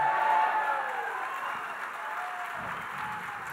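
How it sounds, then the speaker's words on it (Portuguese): Church congregation applauding during a worship service, a steady wash of clapping that fades slightly, heard from a distance in a large room with no one speaking. "Levanta sua mão, aplauda a Ele."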